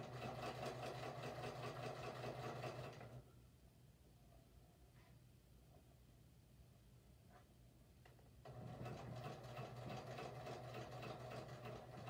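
A sewing machine stitches along tape trim on a fabric rice bag, a steady close mechanical whir with rapid ticking that runs for about three seconds, stops for a quiet stretch, then starts again.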